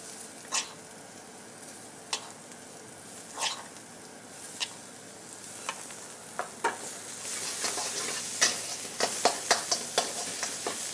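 Spice masala of coconut, turmeric and cumin goes into a pan for papaya and carrot thoran, giving scattered crackles and stirring scrapes that build into a denser sizzle near the end, close and moderately quiet.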